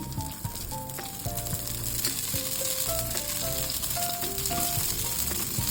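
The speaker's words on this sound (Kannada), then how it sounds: "ತವಾ ಬಿಸಿ ಆದಮೇಲೆ ಈ ಬ್ಯಾಟರ್ ಮಿಕ್ಸ್ ಮಾಡ್ಕೊಂಡಿದ್ನಲ್ಲ, ಈಗ ದೋಸೆ ಹಾಕ್ತಾಯಿದ್ದೀನಿ." Palak dosa batter sizzling on a hot tawa, a constant crackling hiss close up, with faint background music running underneath.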